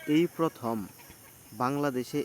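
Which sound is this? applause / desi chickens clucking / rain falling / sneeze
desi chickens clucking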